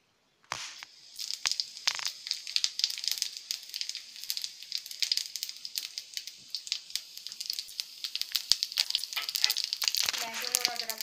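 Cumin seeds hit hot oil in a pan and sizzle loudly, a crackling spit that starts abruptly and keeps popping steadily throughout, close by and alone.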